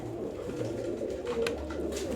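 Pigeons in a Turkish pigeon seller's loft coo steadily in a low, continuous murmur, close and moderately loud, with no talk.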